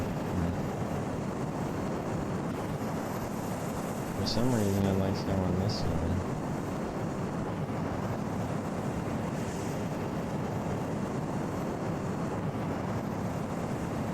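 A Boeing 747 in a video game drones steadily with a broad, constant engine roar throughout, while someone talks briefly over it.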